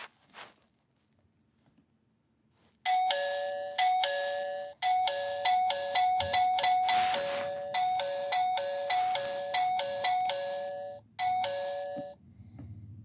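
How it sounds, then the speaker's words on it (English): A doll house doorbell chimes in a long run of rapid repeated ding-dong tones, loud and close, ringing on and on with only brief gaps. "It's happening again, but I'm right beside the doorbell."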